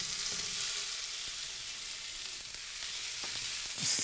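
Apples sizzle in olive oil in a pan, a steady, bright hiss of frying that holds level and flares louder in the last moment.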